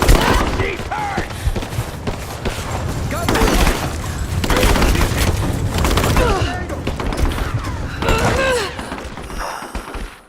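Gunfire bursts and heavy thumps from a Tomb Raider combat scene, with rapid shots and booms repeating steadily over about ten seconds while game characters talk under the shooting.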